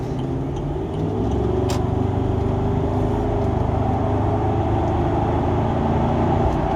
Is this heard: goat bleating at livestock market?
no